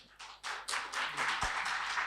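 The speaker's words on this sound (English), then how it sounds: "A round of applause for her" Audience applause for a panel moderator at a panel discussion, a steady wash of many hands clapping that swells after a quiet start and holds loud throughout.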